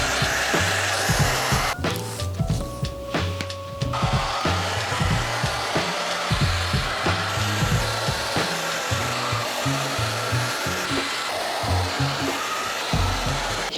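A cheap Dollar Tree hair dryer blows steadily on its cool shot setting, a loud continuous whooshing roar with brief dips and a few knocks of handling, lasting throughout.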